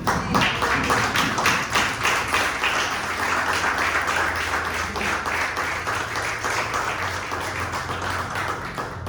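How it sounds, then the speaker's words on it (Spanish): Sustained applause from a church congregation fills the room, dense steady clapping that stays loud throughout with a faint low hum underneath. "Demos un aplauso al Señor"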